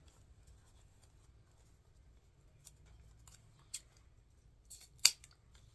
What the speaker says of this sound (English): Cut this tail a little long, so cut it back some.